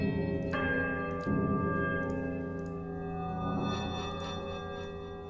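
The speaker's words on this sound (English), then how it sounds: "I gotta ring these bells somehow. In some kind of order." Large bells rung in Pillars of Eternity, a few separate struck tones with long ringing decays overlapping one another, fairly loud and alone.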